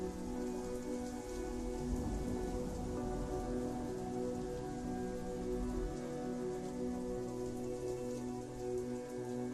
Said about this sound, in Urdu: پھر سے موسلادھار بارش میں بار بار بجلی چمکی